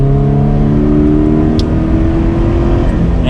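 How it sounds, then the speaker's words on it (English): A Subaru BRZ sports car accelerating to speed, its engine drone steady and loud from start to end with the pitch rising gradually, heard close from inside the cabin. "So we will do one little acceleration, not going too crazy, but we'll get to speed a little bit just to see what it's like."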